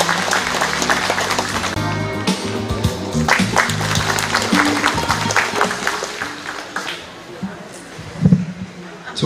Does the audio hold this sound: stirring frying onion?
no